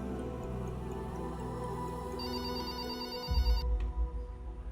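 A telephone rings steadily in an indoor office scene, a continuous electronic ringing tone with a warbling high note joining partway through, fairly loud and alone with no talk, ending as a low thump sounds.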